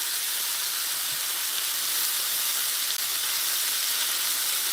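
Onions frying in a pan alongside browned burger patties, giving a steady, even sizzle with a soft steamy hiss that runs unbroken throughout, close and fairly loud, with no talking.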